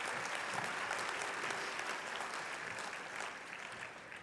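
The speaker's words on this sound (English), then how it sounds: "Ladies and gentlemen, please give a round of applause for the graduates from the Marketing Management Program." Sustained applause from a convocation audience for business school marketing graduates, a steady dense wash of clapping that fills the hall evenly and eases off slightly toward the end.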